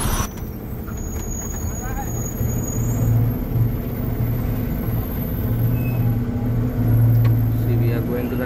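Heavily loaded truck reversing on a hairpin curve in mountain ghats, with a steady low diesel engine drone and rumble throughout and occasional hiss of released air pressure, under people talking nearby.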